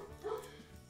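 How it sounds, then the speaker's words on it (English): A dog named George barks once in a short, near yip-like burst during a guitar recording session, the bark standing out against a quiet room background. "And George is barking"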